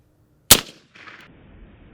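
A single suppressed .308 rifle shot fired with Fiocchi 308 ammunition and the gas setting at its lowest: one sharp, loud report, then a short quieter mechanical rattle, and silence.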